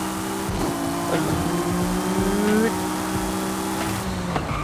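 An Acura NSX engine in Forza Horizon 5 revs upward in rising tones as it accelerates hard, with faint clicks and a brief drop as it shifts.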